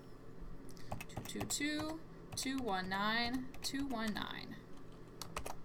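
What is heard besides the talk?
typing on a computer keyboard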